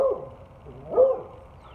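Dogs barking outdoors on a cool, damp afternoon after rain, giving a couple of short, mid-distance barks, with a louder one near the end and no talk.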